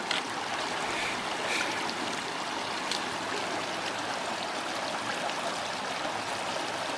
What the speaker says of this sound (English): On a next bit slightly more dodgy creek crossing.